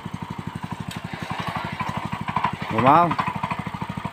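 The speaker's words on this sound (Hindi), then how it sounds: "पावर टिलर चालू हो गया है, अब देखिए चलाने की कोशिश किया जा रहा है।" Power tiller engine chugging in a fast steady beat close by, with a voice speaking briefly over it.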